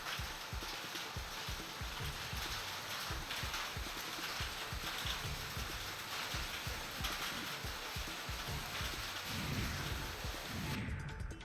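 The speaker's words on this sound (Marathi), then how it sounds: "मुरबाड तालुक्यात गारपिटीसह झालेल्या मुसळधार पावसानं हजेरी लावलेली आहे" Heavy unseasonal downpour with hail in Murbad taluka, a dense, constant clatter of pelting drops and hailstones striking surfaces, loud and unbroken throughout.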